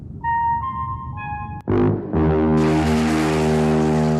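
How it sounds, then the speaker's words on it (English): Musical tones from Project Hail Mary based on the Close Encounters of the Third Kind motif: a few clean sustained electronic notes stepping in pitch, then a sudden cut to a louder, droning harmonic tone. "The tones that Grace first uses to speak with Rocky are from Close Encounters."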